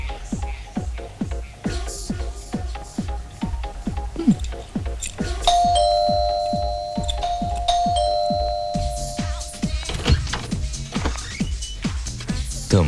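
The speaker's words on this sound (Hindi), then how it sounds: "तो फिर घंटी क्यों नहीं बजाते?" Doorbell chime ringing in a Hindi film scene, a sustained tone for several seconds mid-clip over a busy, rhythmic background of clicks and music.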